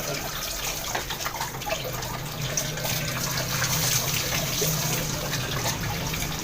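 Running water splashes and pours steadily nearby, like a hose or tap rinsing a dog, continuous with small drips and splatters throughout.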